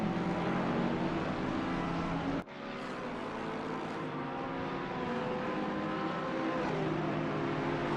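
GT3 race cars, a Bentley and a Ferrari, run at Zandvoort in a sim racing game; a steady engine roar holds at close range with a sharp break near the middle before the whine climbs again, no voices over it.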